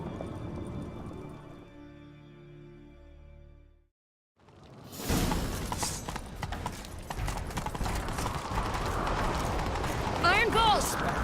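In The Witcher 3, a horse's hooves beat a quick galloping rhythm, close and steady beneath spoken dialogue and a whoosh, after a brief musical passage and a moment of silence.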